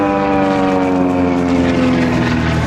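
TB30 Epsilon propeller airplane flying at the Biscarrosse air show, a loud steady engine drone with a strong tonal hum that slides slightly in pitch as it passes close overhead.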